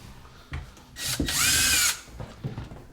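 A cordless power drill backs out screws from kitchen cabinet filler panels, a close, loud whirring burst lasting under a second with a rising and falling motor whine, framed by brief knocks and handling sounds.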